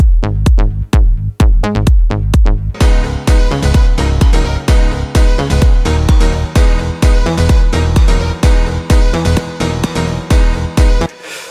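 A top bass and a dry sub bass carrying the low end play together over a punchy 909 kick, the kick thumping alone at first before the dense, loud bass layers join and drive steadily.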